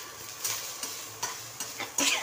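Ginger-garlic paste sizzles in a hot pan for dhaba-style paneer bhaji, a steady high hiss broken by four or five louder bursts as it is stirred, close and clear with no talk.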